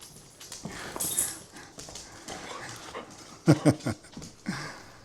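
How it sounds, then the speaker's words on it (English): Pet dogs, Juniper among them, panting and whimpering close by, with soft breaths and short whines scattered across the moment and a brief louder burst of excited canine noise near the end. "time to check on the dogs."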